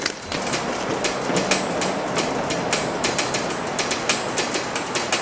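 Freight train with boxcars rolling past nearby, a loud continuous rumble and roar with a steady run of metallic clicks and clacks from the wheels.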